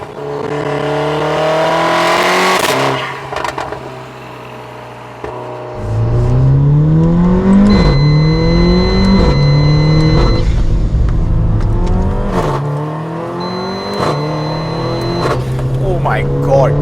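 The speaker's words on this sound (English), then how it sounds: "And the noises that this car makes are absolutely insane. This Capristo exhaust is so dramatic." Tuned Mercedes-AMG GLA45 with a Capristo exhaust and Forge Motorsport blow-off valve revving and pulling hard, loud, close engine sweeps rising and dropping between shifts with sharp valve whooshes and a short pause partway through.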